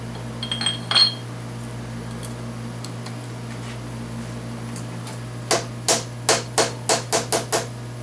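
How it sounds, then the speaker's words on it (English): A metal workpiece, stock for a clamp knurling tool body, is tapped down tight in the machine: a few light knocks, then a quick run of about seven sharp, close hammer taps over a steady workshop hum. "Always hold the work when you're tapping it down, because then you can feel when it's down tight."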